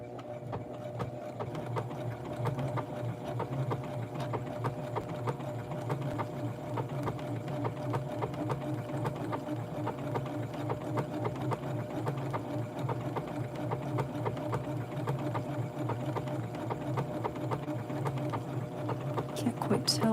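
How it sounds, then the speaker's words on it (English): A sewing machine runs steadily while stitching a retro blouse for a Western Barbie doll, its fast even mechanical whirr close and continuous, with a voice speaking intermittently over it. "let's sink my needle, and let's start sewing."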